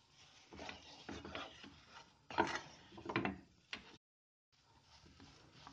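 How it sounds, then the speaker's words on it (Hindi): Jaggery and chana dal are stirred steadily in a pan over low heat, giving close, irregular scraping and rubbing strokes with a brief pause near the end. "इसको हल्के हाथ से चलाते रहना है हमें लगातार।"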